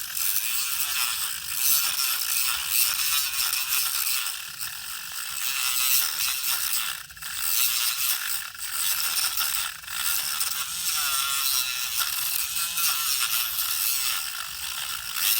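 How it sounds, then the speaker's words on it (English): A cutting tool grinds into the plastic casing of a Nyko rechargeable Wii battery pack, a loud, continuous close-up buzzing rasp with a steady mechanical chatter that dips briefly now and then as the blade catches. "kind of cutting into the plastic. You kind of see what it's doing."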